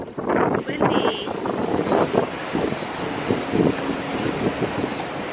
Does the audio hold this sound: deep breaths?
no